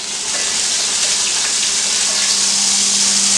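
Onion dropped into warm oil in a pan for masala beef steak, hissing and sizzling in a loud, steady wash that holds throughout.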